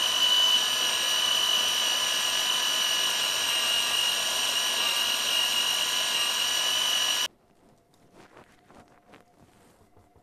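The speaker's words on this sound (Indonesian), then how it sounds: "Sebetulnya bikin bumbu pakai blender itu sama aja kok rasanya" Electric blender grinding a yellow spice paste in a home kitchen: a steady, loud, high motor whine runs for about seven seconds, then cuts off abruptly, leaving faint small clatters.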